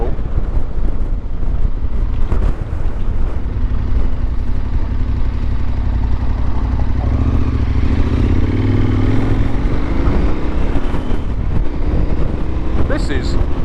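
A motorcycle cruising along a mountainside road on the Isle of Mull, its steady loud engine drone mixed with heavy wind buffeting the microphone, with a slight pitch rise as it accelerates.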